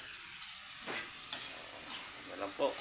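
Bagoong shrimp paste sautéed for a mung bean stew, a soft sizzle broken by several scraping stirs of a utensil across the pan, close by and without speech.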